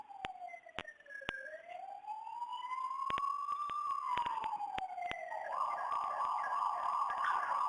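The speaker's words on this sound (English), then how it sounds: "Apologize for the background. I'm in London here, which is a common place for police sirens, I guess." Police sirens in London wail through rising and falling sweeps, fairly close and clear, with sharp clicks scattered throughout and a second siren tone joining near the end.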